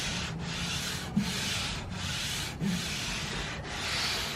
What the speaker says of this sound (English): we're gonna slide my hand right across it so that way you can kind of get a general idea as to what it sounds like